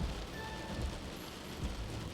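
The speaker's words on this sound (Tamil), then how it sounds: "மறுநாள் காலையில அதிகமாக மழை பெய்துட்டு இருந்துச்சு" Heavy rain falls in a Tamil cartoon story, a steady, dense hiss of downpour with a low rumble underneath, continuous throughout with no voices.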